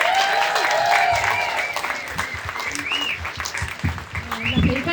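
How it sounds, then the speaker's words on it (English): An outdoor crowd at a March for Life rally in Parliament Square applauds steadily, dense clapping lasting several seconds with faint cheers and voices mixed in. "Can we have a round of applause for Hayley?"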